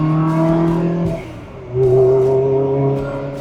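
A 2004 Ferrari 360 Spider with F1 transmission revs loudly and close. The engine note drops away briefly, then surges back into a strong, steady tone.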